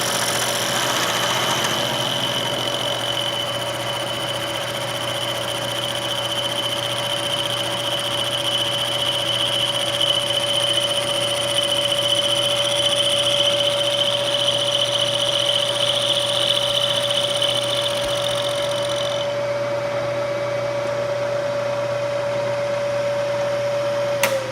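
Steady machining of a replacement drill press handle, a continuous even whine with a sustained high tone that holds for about twenty seconds and then cuts off near the end, with no talk.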